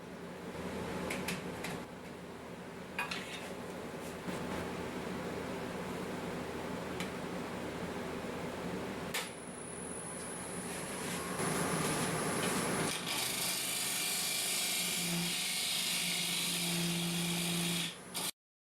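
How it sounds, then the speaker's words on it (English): A 3/8 detail gouge cleans up the bottom of a plywood and mesquite bowl on a wood lathe with the tailstock brought up. A steady whir of the spinning lathe carries scraping tool contact and sharp ticks, rising in intensity near the end. "I bring up the tailstock for support as I clean up the bottom with my 3/8 detail gouge"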